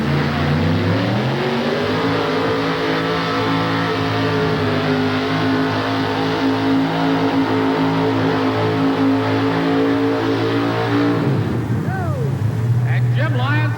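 A heavily modified pulling truck in a 1988 TNT All-American Pulling Circuit event in Memphis roars loudly and steadily through a long pull, its pitch climbing, then the engine cuts off sharply near the end as an announcer talks over it.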